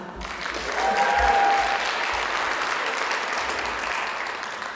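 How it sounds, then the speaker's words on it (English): A pageant audience at the Miss Indian UNM event gives a round of applause, a steady, fairly distant wash of many hands clapping that swells and then holds, with no speech over it. "One more round of applause."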